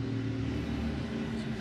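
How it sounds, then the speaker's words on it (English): A tractor passes by outdoors, a steady low engine rumble holding at even loudness throughout, fairly close and with no talk over it. "Tractor going by."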